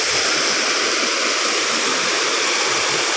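A waterfall and stream rush steadily beside a large split boulder, a dense, unbroken roar of water that stays even and close for the whole stretch, with no voices.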